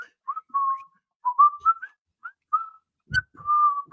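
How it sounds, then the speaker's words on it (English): A person whistles a short broken tune alone, clear thin notes in separate phrases with brief pauses, one soft thump partway through. "I used to be able to whistle better"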